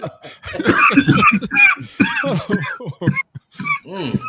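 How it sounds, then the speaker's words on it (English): A man coughs and clears his throat in rough, strained bursts, mixed with hoarse vocal sounds, loud and close. "Got him coughing, man"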